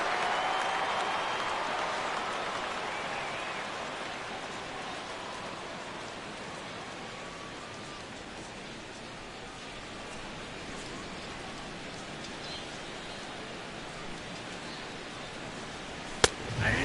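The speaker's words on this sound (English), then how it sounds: "the rain continues to fall here" Simulated rain falls at a ballpark in a PS4 baseball video game, a steady soft hiss that eases slightly in the middle, with a sharp click near the end.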